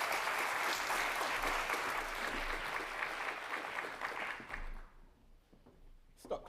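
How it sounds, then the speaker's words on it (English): A large audience applauds steadily for a poet in residence being welcomed to the stage at a forum event, the dense clapping running for several seconds before thinning out, with a few scattered claps near the end. "Stop clapping early."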